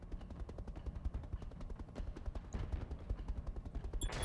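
Inferno weapon firing in a mech combat video game, a fast, even stream of quiet, rattling gunfire bursts that runs the whole time, with no voices.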